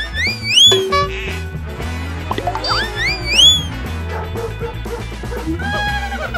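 In a cartoonish wild animal battle royale video game, dogs give several loud, bright yaps and barks in quick bursts over a bouncy musical score, mixed with whistling and boinging game effects.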